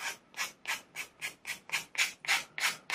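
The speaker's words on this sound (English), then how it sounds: "Onto the sandpaper like a wheel. I'm just going to rough sand it for now." A model aircraft engine nacelle is rough-sanded on sandpaper, giving about ten steady, rhythmic rasping strokes, each a close, bright scrub with no talk.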